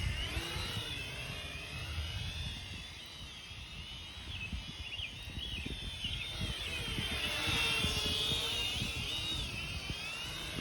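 An Ascend Aeronautics ASC-2450 quadcopter drone flies in gusty wind, its thin high whine rising and falling in pitch over soft wind rumble, fairly quiet and at a moderate distance.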